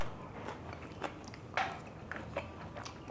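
Someone eats grilled fish topped with shiitake mushroom and freshly grated Shizuoka wasabi. Faint, irregular crunchy bites and soft chewing come close to the mic in a quiet room, with no talking.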